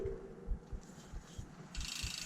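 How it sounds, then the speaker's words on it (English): A disc brake rotor rubbing against the pads on a 2019 Santa Cruz Hightower mountain bike, giving a faint, rhythmic scraping tick on each wheel turn with a soft hiss, close and quiet. "The disc is rubbing again."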